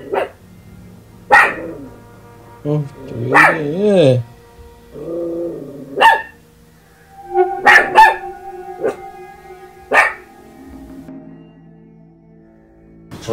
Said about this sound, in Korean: 강아지가.